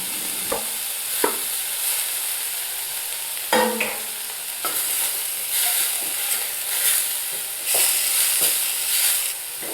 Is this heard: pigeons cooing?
no